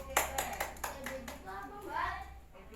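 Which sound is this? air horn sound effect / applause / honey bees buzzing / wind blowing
applause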